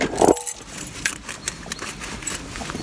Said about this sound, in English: Keys in my pocket.